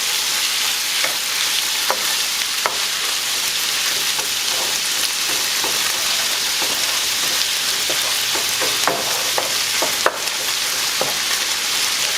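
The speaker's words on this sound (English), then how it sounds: "So just start spreading your chorizo around really well." Chorizo sizzles in a hot pan while being stirred and spread around, a constant crackling fry with scattered scraping and clicking spatula strokes, close and steady, no speech.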